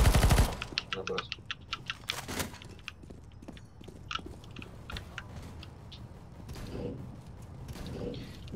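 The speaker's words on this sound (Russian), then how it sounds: "Ни хрена себе дробовик стреляет." Heavy shotgun blasts in the CS:GO shooter, with a loud close burst at the start and further sharp reports scattered through a busy mix of game noise and mechanical clatter.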